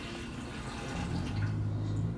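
About 320 ml of lukewarm water pours steadily into a container, a continuous close splashing rush with a faint rising tone as it fills, no voices.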